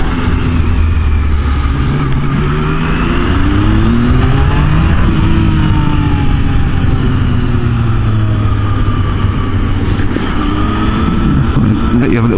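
A Yamaha MT-09 motorcycle ridden on the road, its engine loud and close as it accelerates through rising and falling revs with gear changes and constant wind rumble, over about twelve seconds.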